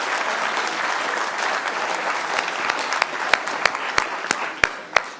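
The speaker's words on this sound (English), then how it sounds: "Can we have a round of applause for our judges?" Audience at a live startup pitch event applauding the judges: a dense, sustained round of clapping that thins out toward the end into a few loud, separate claps close by.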